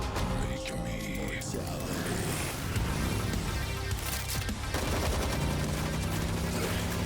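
Gunfire from a Ghost Rider versus Spawn animated fight, dense rapid bursts running continuously at a loud level and mixed with music and effects throughout.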